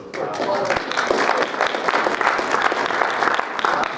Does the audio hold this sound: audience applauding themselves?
yes